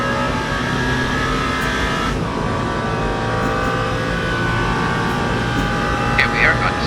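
Race car in Le Mans Ultimate braking and turning into the second chicane on the Mulsanne Straight, a steady loud engine drone with shifting pitch as it slows and powers back on, continuous throughout.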